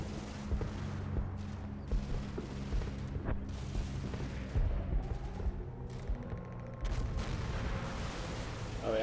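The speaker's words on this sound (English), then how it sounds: "here goes the AA shooting things up" Anti-aircraft guns firing in Combat Mission, Normandy hedgerow fighting: faint, distant bursts of rapid gunfire and scattered thuds over a low rumbling battlefield background, with no talk.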